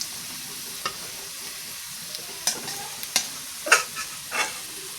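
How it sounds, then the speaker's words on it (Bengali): Cumin seeds fried until reddish in a pan while being stirred: a faint, low background with scattered light scrapes and clicks of the spatula, growing a little busier toward the end, with no voices. "দেখো বন্ধুরা, লাল লাল করে জিরেটা ভাজা হয়ে গেছে"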